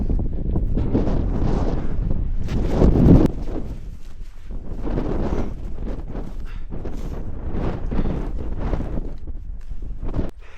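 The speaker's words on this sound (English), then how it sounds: "that wind this morning, absolutely bitter" Strong, bitter morning wind gusts across the microphone at a lakeside wild camp in the Lake District, a steady roaring buffet with louder surges, heard alone without talk.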